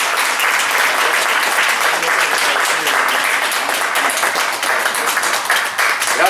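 An audience applauds at the close of a talk on immigrant protected statuses, a loud, full, continuous burst of many people clapping that stays strong for the whole stretch.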